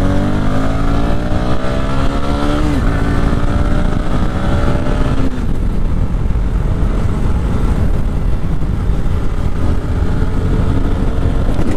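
A Bajaj Pulsar NS200 motorcycle is ridden on a road, its engine rising through the gears in loud revving pulls before settling into a steady roar mixed with strong wind rush, close to the microphone.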